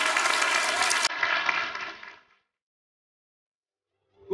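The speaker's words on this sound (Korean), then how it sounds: "뜨거운 박수 부탁드립니다" An audience applauds at a talk concert, a dense, loud wash of clapping that cuts off abruptly after about two seconds and then falls to silence.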